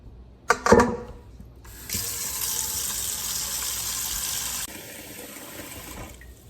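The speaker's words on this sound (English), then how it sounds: "am gonna fill this with cold water as well" Cold water from a kitchen tap filling a container, a few clattering knocks at the start, then a steady rushing stream that changes tone as it fills, then quieter trickling, no talking.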